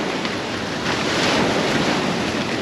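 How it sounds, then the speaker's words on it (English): Strong wind and crashing surf on the north coast of Wales on a wild evening, a steady loud roar of waves with wind buffeting the microphone throughout and no voices. "Quite windy."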